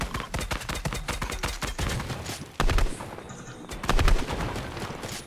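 Video game gunfire from a Fortnite match, rapid bursts of shots cracking in quick succession, loud and close, with a couple of heavier blasts partway through.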